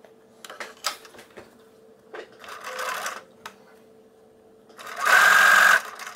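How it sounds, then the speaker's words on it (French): A sewing machine stitches piping onto the bodice front of a dress in short separate bursts, the last one a longer, louder steady whirring run, with a faint hum between. "vous commencez la couture 1 cm après le milieu dos."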